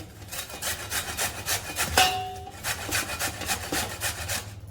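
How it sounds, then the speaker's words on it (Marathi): Carrots are grated by hand for carrot halwa, a rhythmic series of rough rasping strokes, close and steady, with one brief clink partway through and no talk. "आता मी किसून घेते आधी गाजर"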